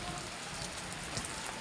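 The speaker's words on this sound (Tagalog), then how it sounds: "umuulan kasi umuulan" Steady rain falls with a constant, dense hiss and no distinct drops or breaks, faint and even throughout.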